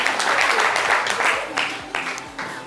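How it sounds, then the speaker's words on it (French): A television studio audience applauds a guest arriving on set, with bright continuous clapping that swells and dips in waves while a host's voice speaks over it. "on va l'applaudir, les amis, pour bravo."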